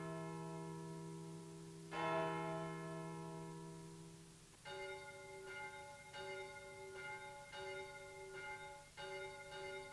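Church bells of Notre Dame ringing, one long resonant toll that fades, followed by a run of clear repeated strikes in a steady rhythm, fairly distant and alone without talk.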